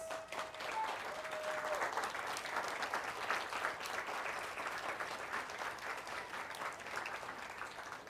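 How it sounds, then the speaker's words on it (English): Sustained applause from a church congregation during a Sunday service fills the hall at steady volume, a dense wash of many hands clapping throughout without letting up. "Can we give John and Gary the hugest round of applause"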